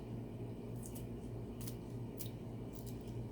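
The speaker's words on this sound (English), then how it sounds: "You can either remove that with a knife, or you could use a pair of scissors, and I use a pair of scissors." Scissors snip stems out of leafy greens in a kitchen, giving about four or five short, crisp cuts spaced irregularly over a low steady background hum.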